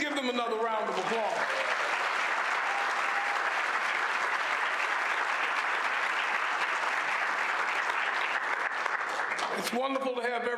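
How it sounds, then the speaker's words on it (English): Sustained, loud audience applause filling the room for several seconds, with a person speaking briefly before and after it. "And please give them another round of applause."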